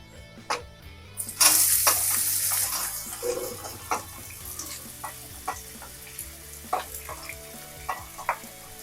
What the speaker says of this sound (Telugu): ఇప్పుడు ఉల్లిపాయ పచ్చిమిర్చి వేసుకుందాం.